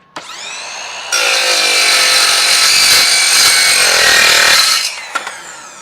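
A Ryobi 18V cordless miter saw with a Diablo Steel Demon blade cuts 1-inch steel tubing: a brief motor spin-up, then a loud, bright, ringing metallic screech through the cut, winding down with a few clicks after.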